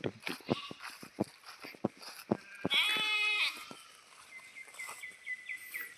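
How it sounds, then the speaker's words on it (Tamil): A young goat kid bleats among grazing goats in a village pasture, with several short bleats, one longer wavering call, and birds chirping in the background, fairly close and clear. "ஆட்டுக்குட்டி."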